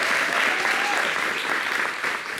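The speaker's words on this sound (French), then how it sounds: "Merci d'applaudir." Studio audience at a live television talk show applauding steadily, a dense, loud wash of clapping that holds for the full length and eases off slightly at the end.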